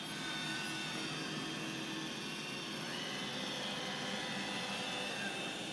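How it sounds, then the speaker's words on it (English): An iRobot Roomba 670 or 690 robot vacuum running on carpet, a steady close whirring hum that continues without change. "this is our iRobot Roomba 670 or 690"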